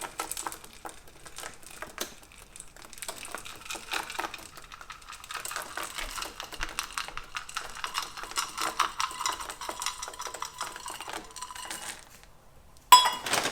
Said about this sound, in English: take 1 cup of chocolate chips or more and just sprinkle on the top